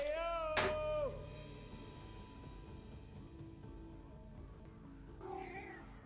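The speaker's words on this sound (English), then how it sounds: "Kitty. I hear a kitty." A cat meows once, near and clear, then a softer second meow near the end, with background sounds from the Left 4 Dead 2 game in between.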